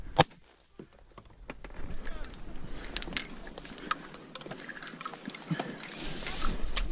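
Gunfire in a video game: scattered sharp shots and short bursts crackle throughout, some close and loud, others fainter, under a steady game background with a voice talking over it.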